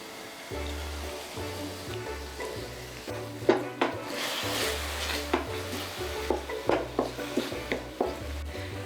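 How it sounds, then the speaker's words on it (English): Aromatics sautéing on low heat in a pan for a Hakka poon choi, a soft continuous sizzle under repeated metal spatula scrapes and clacks against the pan, growing busier toward the end, with no voices. "Continue sauteing until you smell it"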